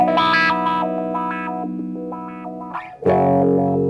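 An electric guitar runs through a Zvex Ooh Wah pedal, its filter stepping through a sequenced wah pattern before a sudden shift near the end into random mode, loud and close with distorted, effected tone.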